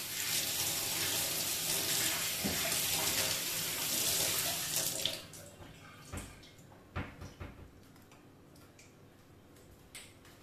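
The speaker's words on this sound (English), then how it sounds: "I just need to wash my hands 1 second." Water runs steadily from a kitchen tap while hands are washed, a close rushing stream that stops halfway, followed by a few light drips and handling clicks, with no talking.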